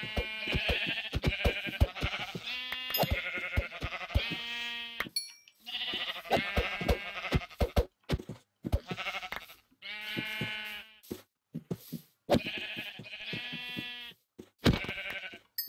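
Repeated sheep bleats from the Minecraft video game, several in a row with short gaps between them, fairly loud and close with no talking over them.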